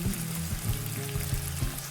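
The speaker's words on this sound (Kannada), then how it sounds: "ಮಸಾಲೆ ತುಂಬಿಕೊಂಡಿರೋ ಬದನೆಕಾಯಿನ ಬಾಣಲೆಯಲ್ಲಿ ಹಾಕ್ಕೊಳ್ತಿದ್ದೀನಿ ಒಂದೊಂದಾಗಿ." Masala-stuffed brinjal fries in oil in a pan, a close, steady sizzle with soft repeated bubbling pops throughout.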